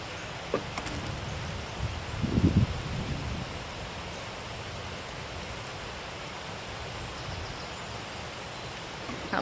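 A watering can rose held upside down sprays a fine shower over garden seed beds, a steady soft hiss like light rain that runs on throughout, with a brief louder splash early on.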